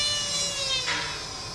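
A high-speed polishing tool spinning at 3000 RPM against PFM dental ceramic, giving a close, sustained high-pitched whine with a brief surge of grinding friction partway through.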